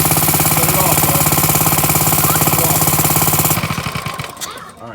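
Coleman CK100 go-kart engine after a carburetor change, running loud and close with a fast rattling chug that slows and sputters down as it shuts off near the end.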